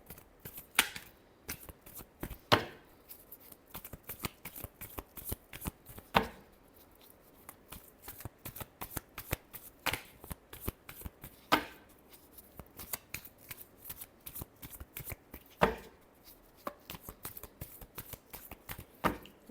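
Tarot cards being shuffled by hand, an irregular series of quiet close riffles and soft slaps, some strokes sharper than others, with short gaps between them.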